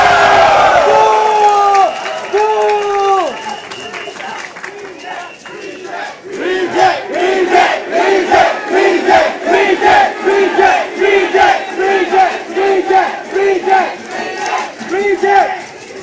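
A large crowd at a protest rally against a population white paper in Hong Lim Park roars with sustained cheering and shouting, loud and continuous, rising after a sung or chanted opening with overlapping voices throughout.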